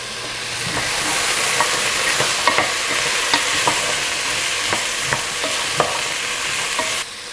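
Onion sweating in a pan on medium heat, a steady soft sizzle with occasional light clicks and taps of a utensil against the pan, close and continuous until it cuts off abruptly near the end.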